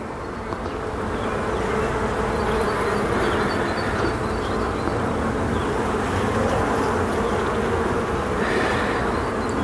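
Honeybees swarm thickly around an open hive during a spring inspection of the brood frames, a dense, continuous close-up buzz with bees passing near now and then, and no talking.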